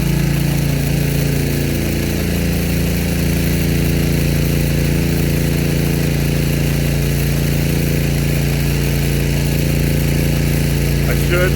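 A Buckner popup impact rotor sprinkler fed by two pumps, a loud steady pump drone with a low hum, close by, as a voice talks over it.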